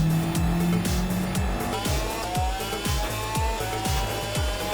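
A Subaru WRX Gr.4 race car in Gran Turismo 7 laps Fuji International at full throttle. The engine roars continuously and rises through repeated quick gear changes, with tire squeal, and no talking.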